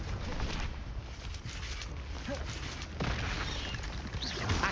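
Spell-casting effects in the video game Hogwarts Legacy: a dense, continuous wash of magical whooshes and crackles, with a sharper surge of energy about midway and a voice mixed underneath.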